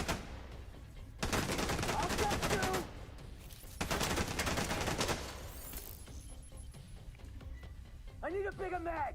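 Video game gunfire comes as two long bursts of rapid automatic fire separated by a short pause, loud and dense, with quieter game sounds afterward and a brief voice near the end.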